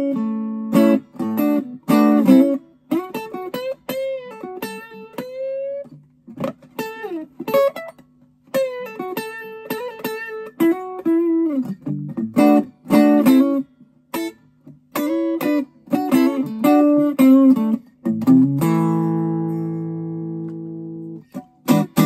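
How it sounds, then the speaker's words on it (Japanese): A Sadowsky electric guitar with a laminated maple build plays a fast melodic phrase through an amp, with clear plucked notes, quick runs and a final sustained chord, alone and close. "サドウスキーはメイプル張り合わせのトーン"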